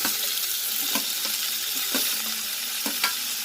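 Onions fry in a pan for a brinjal and baby capsicum bhaji, giving a loud continuous sizzle broken by a few soft scraping stirs.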